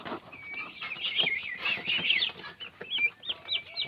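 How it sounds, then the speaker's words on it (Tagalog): Three-week-old turkey poults chirp and peep continuously in a high, busy chorus, close and fairly loud, with no talking. "Yan po yung ating mga sisiyo ng pabo."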